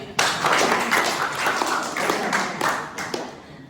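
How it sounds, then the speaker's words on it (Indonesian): An indoor church gathering's audience claps their hands in a steady, dense burst of hand claps that fills the room, lasting a few seconds and tapering off at the end. "Tepuk tangan dulu."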